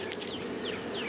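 Honey bees buzz around an opened hive, a close, continuous drone with individual bees whining past near and fading away.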